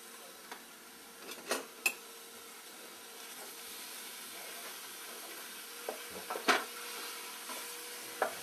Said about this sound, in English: I've got some olive oil warmed up here in this pan. I'm just gonna, put that all in there and start browning that up